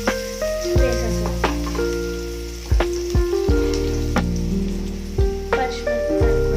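Onions sizzle in hot oil in a pan while paneer fried rice is cooked, giving a steady crackling hiss under louder background music with plucked melodic notes.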